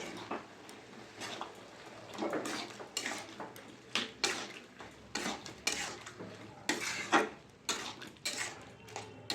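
A spoon stirs egg tadka with salt and tadka masala in a pan, producing soft, repeated scrapes and metallic clinks at an uneven pace, close but fairly quiet with a faint sizzle beneath.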